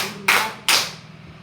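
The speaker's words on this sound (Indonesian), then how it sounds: "Tepuk tangan 3 kali." Two crisp group hand claps from a class of students ring out in a classroom, each a sharp burst followed by a short decaying tail, close and clear with no voices over them.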